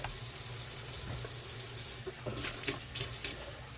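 Tap water runs steadily into a gravy pan, a continuous close hiss of flowing water with a few brief splashy changes near the end, no talking.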